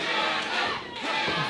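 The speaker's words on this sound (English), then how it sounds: "Crowd getting behind Fiasco." Wrestling crowd at a Mid-States Wrestling event roaring steadily in support of the wrestler Fiasco, a dense, continuous wash of cheering from a packed arena with a brief dip midway.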